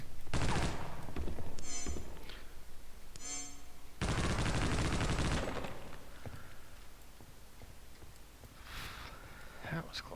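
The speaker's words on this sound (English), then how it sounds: "You notice how this gun blows me backwards? Watch this." Video game gunfire in a church-website livestream: several loud bursts of automatic shots with a long dense volley in the middle, followed by a few fainter sporadic shots, with gameplay sounds between.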